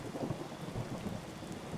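Rain falls in the Thief Simulator video game, a dense steady wash with a low rumble of thunder under it, loud and close throughout.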